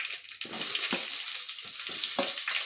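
Bay leaves, curry leaves and onions frying in hot oil for egg biryani, a steady close sizzle broken by a few stirring scrapes and clatters in the pan.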